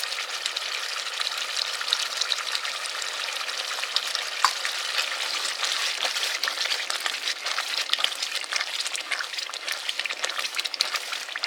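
Bread halwa is frying and being stirred in ghee with cashews and cardamom powder. A soft, continuous sizzle and crackle with occasional scraping runs at low volume, alone and without speech.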